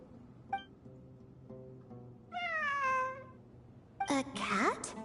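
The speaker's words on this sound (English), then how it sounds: "It really is a cat." A cat meows in the video game Genshin Impact on PS5: one drawn-out, rising-and-falling meow midway, then a brighter, busier burst of cries near the end, over a low, steady game ambience.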